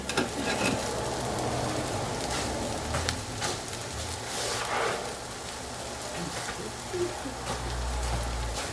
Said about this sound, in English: Now that our onions have softened, we are going to add the garlic.